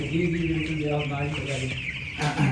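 Broiler chickens on a farm cluck and murmur close by in a steady, busy chatter, with a few sharper calls near the end.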